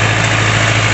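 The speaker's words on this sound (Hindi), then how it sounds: "देखो भाई क्या सोनाली का ट्रैक्टर है ये" A Sonalika 60 hp tractor engine runs steadily outdoors on a farm during field sowing, a loud, close, continuous low diesel rumble with a constant drone and no pauses or speech.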